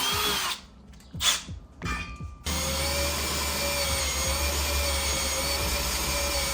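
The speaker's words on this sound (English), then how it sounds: "Then we're using the 3mm drill bit, and then we will move up to the" A power drill whirs in short bursts, then runs continuously at a steady high-pitched whine as a 3mm bit bores through material, loud and close.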